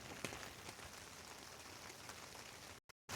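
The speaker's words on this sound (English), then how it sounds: "because it's raining outside" Steady rain falls outside around a tent set up for a car headlight install job, a dense even patter that runs close and constant before briefly cutting out near the end.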